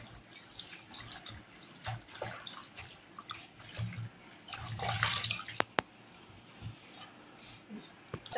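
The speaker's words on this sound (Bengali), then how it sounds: "আমি এখন পাতাগুলা ধুইয়া পরিষ্কার করে দিব।" Leaves are washed in water by hand: intermittent splashes, trickles and sloshing bursts, fairly faint and close, with a brief clink near the end.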